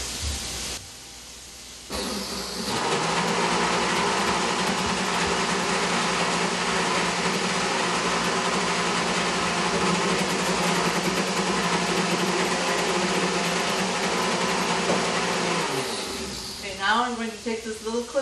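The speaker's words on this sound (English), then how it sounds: "Just turn your blender on stir so it doesn't splatter quite so much." A kitchen blender runs on its stir setting, a steady close whirring hum that starts after a brief pause, holds for about fourteen seconds, then winds down.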